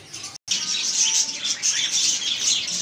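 Pet cockatiels chirp continuously while being bathed with water, a dense nearby twittering broken by one brief dropout early on.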